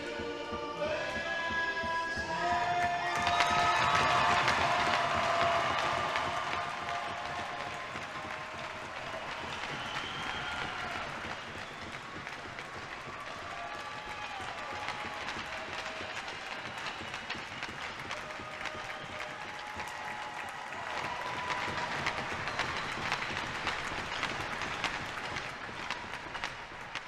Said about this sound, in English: a thunderous applause here from the home fans